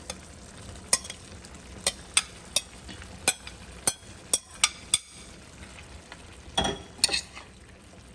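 Spoon or utensil scraping and clinking in a pot as chicken is stirred into simmering stew, a dozen sharp knocks in uneven rhythm over a low bubble, close by.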